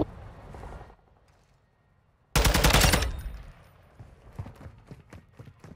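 A burst of gunfire in the video game Call of Duty: Modern Warfare II, a loud sudden volley after a quiet stretch, followed by scattered sharper shots and clatter fading down.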